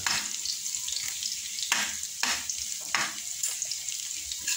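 Garlic sizzling in hot oil in a pan, a steady crackling hiss broken by several sharp bursts as it is stirred and tossed, close and fairly loud, with no voices.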